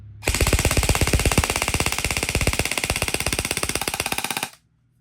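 An E&C 645-2 DD M4 airsoft rifle with a 120-round mid-cap magazine fires a loud, rapid full-auto burst of about four seconds, evenly spaced sharp cracks close by, then stops abruptly.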